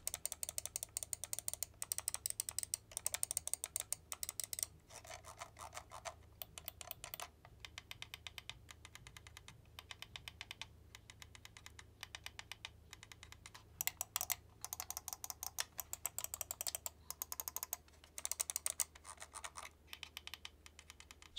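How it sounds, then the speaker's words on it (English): The buttons of a Razer DeathAdder V2 X gaming mouse, fitted with Razer V2 switches, click in quick bursts of sharp, crisp taps separated by short pauses, close and isolated. "So as you're hearing, they're all very clicky. They're using the V2 Razer switches."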